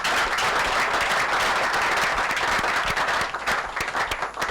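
Crowd applause at an outdoor broadcast event, dense continuous clapping from many hands that thins slightly toward the end.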